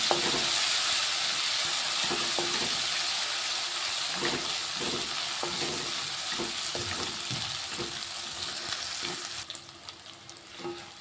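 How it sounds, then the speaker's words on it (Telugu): Cooked rice fries in a pan with lemon and a turmeric tempering, giving a steady broadband sizzle with scattered scraping stirs; nobody speaks. "ఇదంతా ఫ్రై అవుతుంది"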